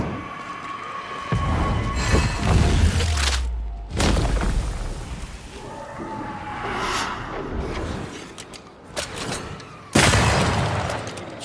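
Ghosts being shot in Banishers: Ghosts of New Eden, with heavy booming blasts and bursts of gunfire that come in several loud clusters over a rumbling game soundtrack, with sharp impacts and whooshes between them.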